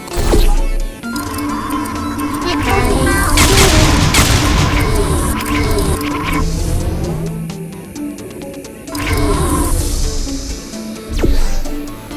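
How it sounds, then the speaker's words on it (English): Automated turret gunfire in the Portal Stories VR game: dense, loud bursts of rapid fire and booming impacts fill the scene, with brief lulls between volleys. "Please take care when interacting with deadly turrets."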